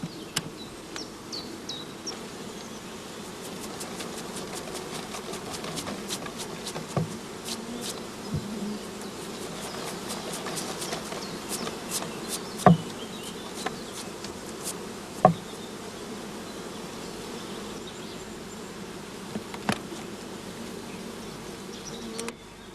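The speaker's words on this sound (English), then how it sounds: "the mass of bees was enough to give us one shook swarm" A mass of honeybees from a shook swarm drones in a continuous, dense buzz, with occasional knocks and clicks of beekeeping equipment standing out over the hum.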